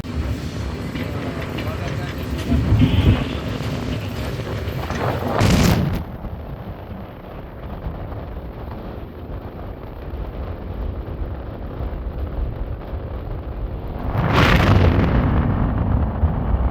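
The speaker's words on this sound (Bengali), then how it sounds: "আমাদের ট্রেন এই মুহূর্তে ভাঙ্গা রেলওয়ে স্টেশন প্রবেশ করতেছে" Inside the Madhumati Express intercity train as it enters Bhanga railway station, a steady rumble and rattle of the carriage on the rails, with two louder whooshing bursts as it passes structures, and talking voices throughout.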